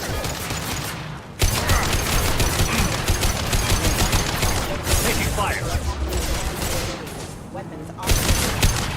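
Sustained gunfire from robots in Mass Effect 2 rattles almost without pause, dense bursts and impacts layered over a busy battle mix, loud and close throughout.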